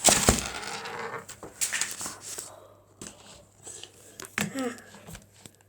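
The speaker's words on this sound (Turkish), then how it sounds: "Kamera düştü." A camera falls over with a loud clattering crash at the start, then scattered knocks and handling bumps as it is picked up, with brief background talk.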